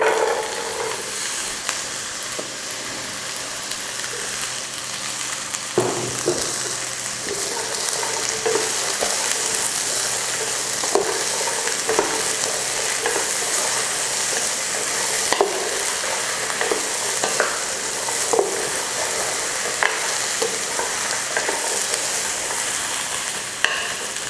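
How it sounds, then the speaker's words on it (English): Cut okra fries with onion and garlic in an uncovered pot, producing a loud, continuous sizzle punctuated by frequent rhythmic scraping from stirring, close up and with no voices. "we'll add now the okras that we have cut"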